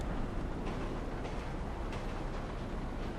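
A train in Grand Theft Auto V approaches with a loud, continuous rumble and hiss of rolling wheels that stays steady across the whole stretch, with no talk over it.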